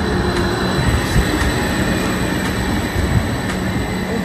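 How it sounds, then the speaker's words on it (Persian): An intercity train rumbles steadily on the rails, with a continuous low roar and faint rhythmic clicks of the wheels, loud and close throughout with no talking. "قطارهای بین شهری."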